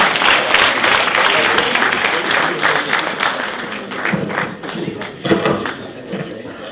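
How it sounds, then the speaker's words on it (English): Audience at a STEM research and innovation symposium applauding a panel, steady dense clapping from a crowd throughout, loud and close, thinning slightly toward the end. "Can we give them another round of applause?"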